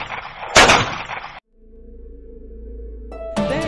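Cartoon gunshot: a single loud, sharp blast followed by a sudden cut to a low sustained tone and more music.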